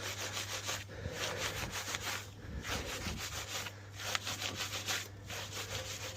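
Brush scrubbing dirty, muddy car wheel barrels coated in snow foam, a steady back-and-forth rubbing rhythm with regular short pauses, close and continuous throughout.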